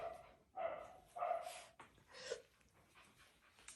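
A 13-week-old Layla puppy at a kennel gives a few soft, close yips and barks in short bursts, with a whimpering tone between them.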